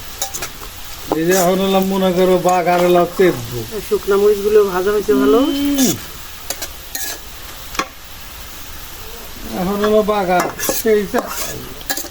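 Onions fry and sizzle in a pot while a utensil stirs and scrapes against it, and someone talks over the cooking for much of the time.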